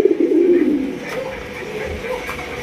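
Gola pigeons cooing close by, a low throaty coo strongest at the start, then fading into softer murmuring with faint background noise.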